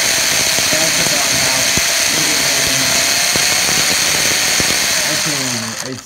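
A brushless-converted WLtoys 144001 RC car motor running at half throttle gives a loud, steady, high-pitched electric whine that holds for several seconds, then winds down near the end. The whine stays close and sustained.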